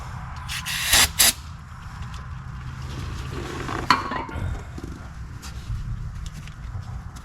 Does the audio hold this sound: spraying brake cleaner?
yes